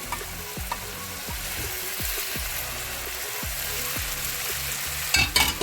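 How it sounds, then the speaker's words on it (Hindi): Chopped capsicum frying in a hot pan with onions, a steady close sizzle broken by repeated scraping stirs, with a louder clatter near the end. "अब हम इसके अंदर शिमला मिर्च जो हमने काट के रखी थी वो ऐड कर लेते हैं"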